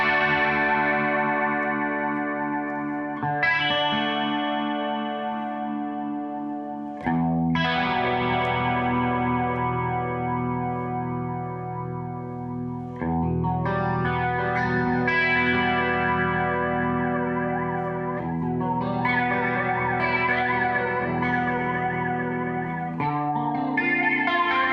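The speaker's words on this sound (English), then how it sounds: "the last effect in the modulation module is your flanger" An electric guitar plays through the flanger of a Mooer Black Truck multi-effects unit set to a middle position. Sustained chords and notes sweep with a swirling, jet-like modulation, played alone without speech.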